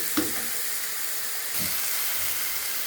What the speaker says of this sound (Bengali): চিংড়ি মাছ ভেজে উঠিয়ে না রেখে এভাবে কষিয়ে দেবেন